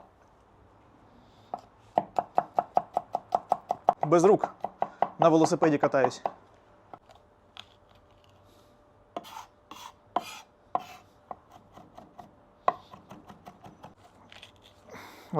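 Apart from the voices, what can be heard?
knife chopping garlic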